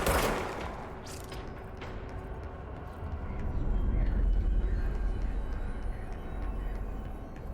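Gunfire in the video game Control, with several shots and bursts over a low, rumbling game soundscape at moderate loudness and no talking.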